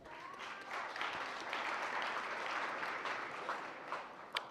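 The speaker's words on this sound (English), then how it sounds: "deserves a round of applause" A graduation ceremony audience for health care sciences and pharmacy graduates breaks into sustained applause, a thick, even roll of many hands clapping that carries on steadily, with a sharper clap near the end.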